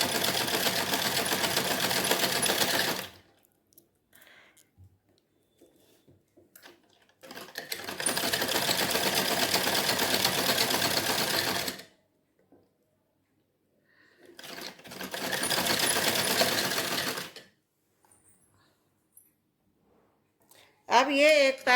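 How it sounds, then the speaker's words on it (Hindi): A sewing machine runs while stitching the leg of a salwar, heard in three sustained bursts of rapid, even whirring, each a few seconds long, separated by pauses; a brief voice sounds at the very end. "अब हम इस तरह पकड़ के ऐसे सिलाई करेंगे।"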